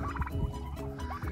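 Turkeys gobble in a loud, warbling chorus, several birds calling over one another in quick bursts.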